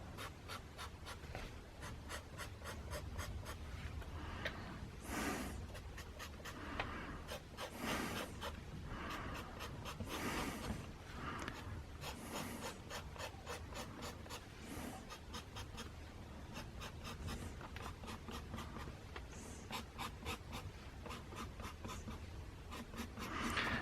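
Colored felt pens scratch and squeak across paper in steady, close strokes and short dabs, continuous and quiet with no talking.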